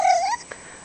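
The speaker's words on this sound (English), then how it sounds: "That's the most you've meowed in like ever." A pet cat gives one drawn-out meow, loud and close, tapering off after about a third of a second, followed by a soft faint sound in a quiet room.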